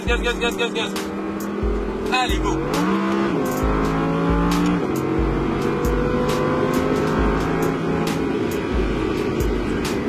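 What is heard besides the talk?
Audi R8 RWS accelerating on Le Castellet circuit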